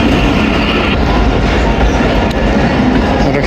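The 48DN Rehman Baba Express pulls out of Attock City Junction, with a loud, steady rumble of rolling wagons and faint clickety-clack of wheels over rail joints throughout, no voices.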